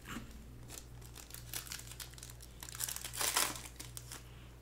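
Wrapper torn open on the last box of 2023 Optic football cards, giving close, irregular crinkling and crackling of plastic that swells near the end.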